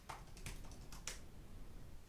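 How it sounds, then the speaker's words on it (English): Light, close tapping on a laptop keyboard, a few quick scattered keystrokes in the first second over a soft room hum, then quiet background with no talking. "Oh, I keep typing on the wrong key. I've got my laptop in front of me."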